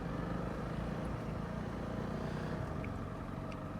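A motorcycle rides in first gear, its engine a steady rumbling drone heard from the rider's position, mixed with continuous wind rush and no clear changes in pace.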